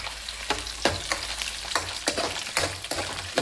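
Dry red chillies fry in hot oil with a steady crackling sizzle, broken by repeated sharp scrapes and stirs at an irregular beat, close up and with no voices.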